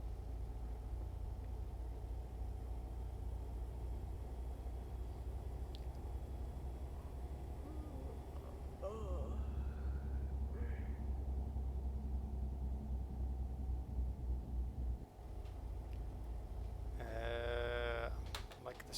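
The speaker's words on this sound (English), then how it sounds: "Like this truck sounds like it's a little bit sick." A truck engine in American Truck Simulator rumbles steadily at low pitch, sounding a little rough in the wrong gear, with a brief shift in tone near the end and a person talking over it.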